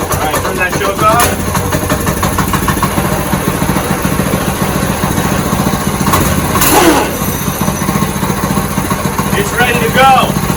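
A Predator small engine on a go kart firing up and settling into a steady, loud idle, with a rough continuous drone and brief revving swells throughout, close by.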